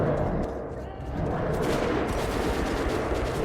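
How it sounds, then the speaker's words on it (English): Gunfire in the post-apocalyptic shooter Metro 2033 Redux, a dense rattle of rapid shots and bursts heard close and loud throughout, with a voice speaking over it. "I wonder this place is doomed with shooting like that"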